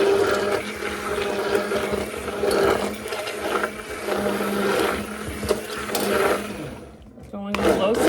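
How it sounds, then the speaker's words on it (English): A stick blender whirs steadily on a low setting, mixing oil into a homemade leave-in conditioner, a loud continuous buzzing drone with a brief dip near the end. "I'm using a stick blender, which is super easy."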